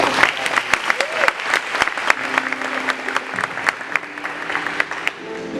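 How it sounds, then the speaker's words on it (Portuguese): A church congregation bursts into warm applause during an evening service, dense clapping sustained throughout with a few sharper claps standing out and faint voices murmuring underneath. "Então dá uma salva de palmas bem gostosa"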